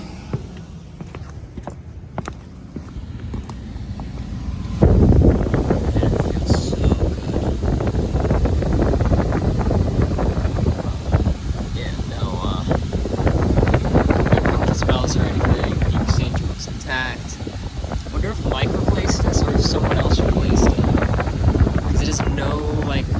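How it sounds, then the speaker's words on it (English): Steady wind buffets the microphone in a low, continuous rumble that grows louder after a few seconds and persists throughout, outdoors in cold weather in New York. "it's windy right now"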